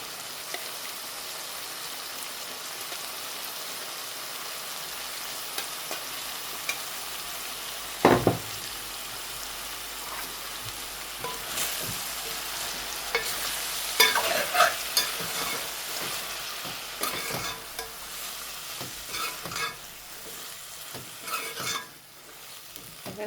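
Tomato and brinjal frying in a pan for a mixed vegetable curry, with a constant sizzle, repeated scraping stirs and occasional utensil knocks against the pan, close and fairly loud, with no voices.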